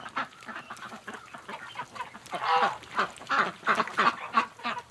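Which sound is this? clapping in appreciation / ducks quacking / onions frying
ducks quacking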